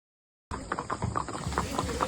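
Horse hooves clip-clop along a hill trail during a ride at Matheran, a steady close rhythm of light hoof strikes starting after a brief silence.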